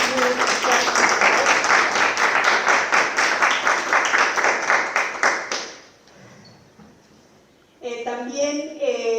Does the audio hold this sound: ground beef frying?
no